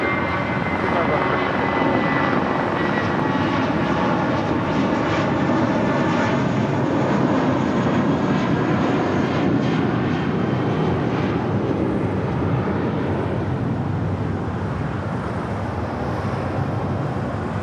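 A Gulfstream business jet taking off from runway 25 left at LAX, a loud, continuous engine roar with a steady whine, heard from the airfield for the whole stretch.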